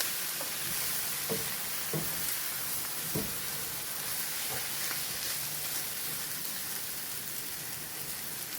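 Rice going into a pan of frying bacon and cabbage, a constant soft sizzle with a few brief scraping clicks as it is added, no talking.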